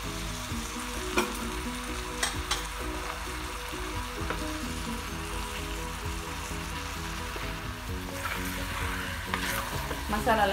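Mutton is stirred in a sizzling frying pan with turmeric, chili powder, coriander powder and salt. Steady close frying hiss with repeated scraping and clattering strokes throughout, and no voices.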